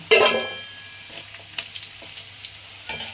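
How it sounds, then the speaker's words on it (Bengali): Garlic frying in a pan for a pointed gourd, tomato and shrimp mash gives a loud sizzling burst at the start, then settles into quieter frying with scattered stirring scrapes, and no voices. "মোটামুটি রসুনটা হয়ে এসছে ভাজা"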